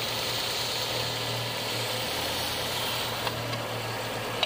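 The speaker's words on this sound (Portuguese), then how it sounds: "o motor falhando, ó." A VW Beetle fitted with an AP engine idles unevenly and misfires from a loose spark plug wire, a steady close rumble with a faint pulsing irregularity and occasional small clicks.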